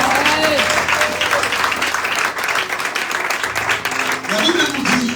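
A church congregation applauds the Lord with sustained, dense clapping throughout, steady and loud with a brief swell near the end, voices mingling faintly in the crowd noise.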